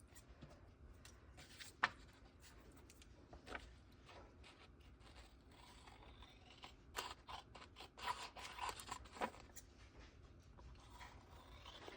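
Paper faux polaroid prints, still slightly damp, being cut with scissors; a quiet run of soft, sporadic snips and crisp clicks, with a few sharper cuts clustered near the end.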